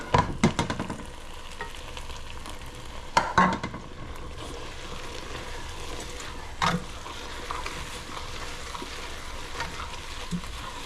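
Risotto for blackened salmon keeps up a steady sizzle while being stirred in a pan, with scattered spoon scrapes and clicks against the metal, close and moderately loud, with no speech.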